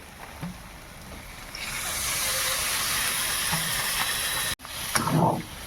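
Water poured into a hot pan of soybean curry sets off a loud, steady close sizzling hiss that holds for a few seconds, breaks off abruptly, then flares again briefly.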